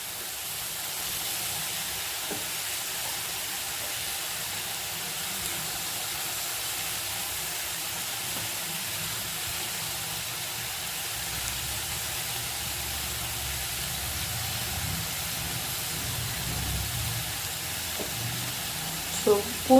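Garlic added to lightly sautéed onions in a pan for potato masala bonda gives off a soft, steady sizzling hiss throughout, with a faint voice in the background.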